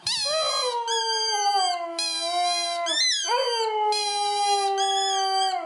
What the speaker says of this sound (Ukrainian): Хтось просто обирає завивати замість тисячі гав.